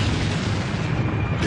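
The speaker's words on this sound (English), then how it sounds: "Then an insurgent fires an RPG." Heavy low explosion rumble from an RPG strike on an Abrams tank in the Iraq War, a loud sustained roaring blast filling the short stretch without any voices.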